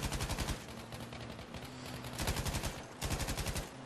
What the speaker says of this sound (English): I'm just shooting at D and I'm hitting people